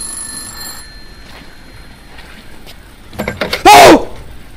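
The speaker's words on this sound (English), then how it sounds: "Oh, it's a phone." A telephone rings in one short, loud electronic burst near the end, after a stretch of quiet room tone and a few soft knocks.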